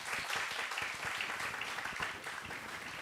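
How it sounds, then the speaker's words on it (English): Conference audience at a women in leadership event giving dense, continuous applause that keeps a steady level through a short burst. "Can I get a round of applause to see if people are still alive?"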